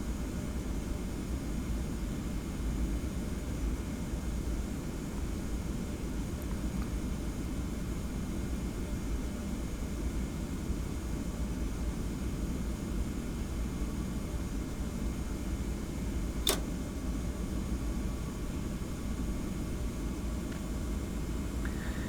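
Boeing 717-200 jet taxiing to the runway at Kona airport in Hawaii in the Prepar3D flight simulator, a steady broadband engine whine and rumble that stays even throughout, with one brief faint click midway.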